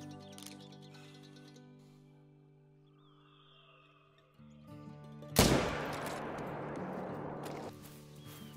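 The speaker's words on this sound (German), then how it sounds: "Nochmal 300 Meter Schuss." Hunting rifle gunshot in theHunter: Call of the Wild fired at a target about 300 meters away, a single sharp crack with a decaying rumble after quiet game ambience.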